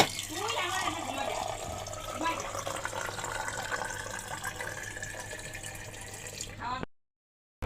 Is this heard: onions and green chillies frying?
no